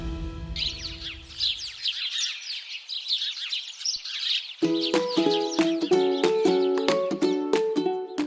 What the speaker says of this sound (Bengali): বছরের এই সময়টিতে নানা প্রজাতির পাখির কলকাকলিতে মুখরিত হয়ে উঠেছে চীনের চিয়াংশি প্রদেশের নানছাং শহরের একটি আবাসিক অঞ্চল